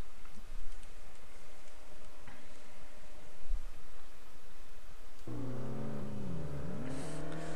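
Toyota Supra engine in the racing video game Import Tuner Challenge: a steady, loud engine drone that rises into a climbing, harmonic-rich rev toward the end, alone without talk.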